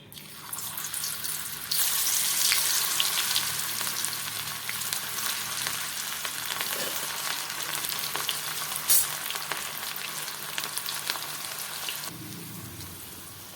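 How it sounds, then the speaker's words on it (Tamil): Banana flower pieces dropped into hot oil for banana flower chilli fry, a dense steady sizzle rising sharply after a quieter start and bubbling on loudly with crackling bursts, no voices. "எண்ணெய் நல்லா சூடாகிடுச்சு இப்போ வாழைப்பூவை போட்டுருவோம்"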